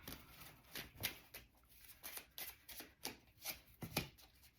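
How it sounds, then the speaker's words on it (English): Tarot cards shuffled and drawn from a deck, giving a string of soft, quick riffling bursts and slaps at an uneven rhythm, close by and fairly quiet, with no talking. "I'm just gonna get a few more cards before."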